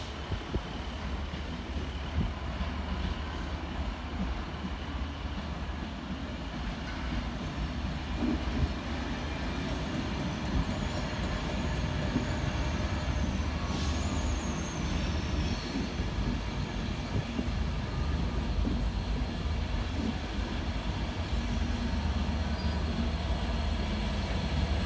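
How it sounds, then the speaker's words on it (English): Transport for Wales class 153 diesel unit departing Cardiff Central on a Coryton to Penarth service, a steady loud low engine rumble and rail noise building slightly over the span with faint higher squeals, no talk. "we see the departure of 153926, working the 1635 Transport for Wales service from Corriton through to Penarth"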